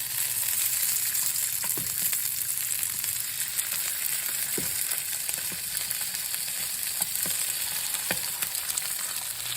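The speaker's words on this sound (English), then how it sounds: "we can start browning and searing the wings that I've salted and marinated in the salt" Salted chicken wings sear in very hot oil, giving a dense, loud, continuous sizzle and spatter close up, with a few faint clicks and no speech.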